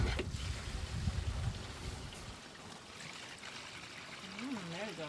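Gray water pours out of an RV holding tank at a dump station, a steady rushing trickle with a heavier gush at the start, while a voice speaks over it.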